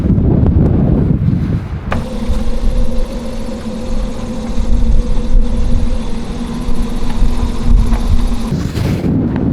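Steady roaring night wind on a sailboat in Greenland, with a low engine-like drone and tonal hum underneath, continuous and loud throughout, rising briefly near the end.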